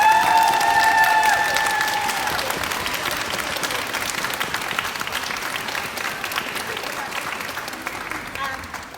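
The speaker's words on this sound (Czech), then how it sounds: "To je paní učitelka Zuzana Vaníčková, prosím potlesk pro ní" Audience applause at a Christmas choir concert in Velim: a dense, fairly loud round of clapping from a hall crowd, with a brief tonal voice or note early on, gradually tapering off over nine seconds.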